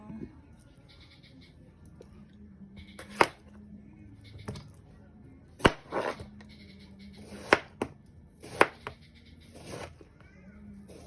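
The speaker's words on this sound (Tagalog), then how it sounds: "Unahin po natin gayatin ng pipino." A knife chops cucumber on a board in a few sharp, separate thuds spread out over time, over a low steady hum, with some voices in the background.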